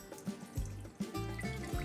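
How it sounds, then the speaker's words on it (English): Water pours into a cooking pot to start a sugar syrup with cinnamon and lemon for galaktoboureko: a close, splashy trickle that swells and thins in a few short bursts. "In goes the water"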